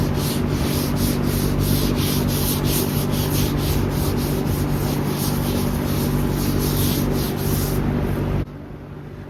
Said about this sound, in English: kind of just wet sand it, but not too hard